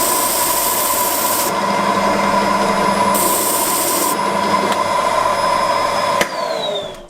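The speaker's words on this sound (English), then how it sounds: "I'm just going to take that back to the grinder and just whiz that off to keep the edge nice and smooth" A grinder whines steadily and loudly up close as it smooths the stitched edge of a leather axe sheath, its pitch shifting slightly as the work is pressed on, before it winds down near the end.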